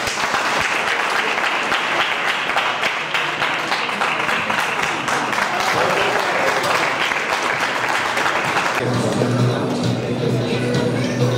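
A crowd at a powerlifting event breaks into loud, continuous applause and scattered cheering after a 170 kg squat attempt, with a low hum entering near the end.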